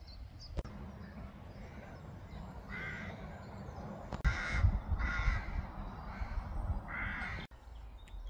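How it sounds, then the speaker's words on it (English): Several crows caw in repeated bursts around a farm, moderately close, over a steady outdoor background with a sharp bang partway through. "Absolutely tons of crows about, but they're just flying about at the minute"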